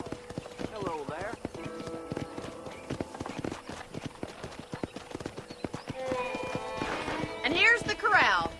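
Horses whinny over a steady clip-clop of hooves at a ranch corral in the video game Red Dead Redemption, with rhythmic trotting throughout and a louder neigh near the end, all set against background music.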